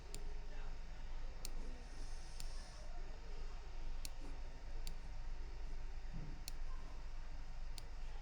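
A computer mouse clicks sporadically while someone works in Canva, giving light single ticks spread across a steady background hiss, with no voices.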